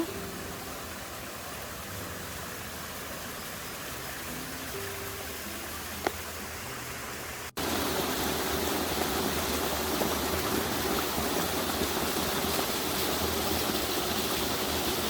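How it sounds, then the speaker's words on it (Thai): Steady, dense rushing of a waterfall fills the whole stretch, growing noticeably louder and closer partway through, with no voices. "นี่เป็นน้ำตกอีกหนึ่งชั้นนะคะ"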